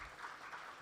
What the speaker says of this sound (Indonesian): coba tepuk tangan dulu untuk pelaku UMKM